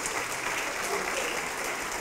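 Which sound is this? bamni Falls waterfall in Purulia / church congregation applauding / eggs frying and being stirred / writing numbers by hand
church congregation applauding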